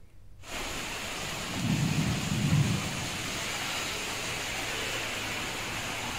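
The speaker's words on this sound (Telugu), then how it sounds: "ఈదురుగాలులు, ఉరుములతో కూడిన వర్షం పడుతోంది" Heavy rain pours down during a thunderstorm in Hyderabad, a constant hiss of rainfall with a low rumble of thunder swelling briefly midway, steady and unbroken, with no voices.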